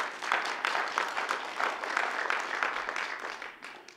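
Sustained applause from an audience at a city planning and development council meeting, a dense, steady roar of clapping hands throughout.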